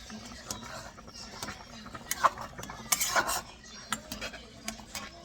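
A fish sauce dipping sauce for salmon head sinigang is stirred in a small dish, with light clinks and scrapes of a utensil against the bowl in an uneven rhythm and a voice faintly in the background.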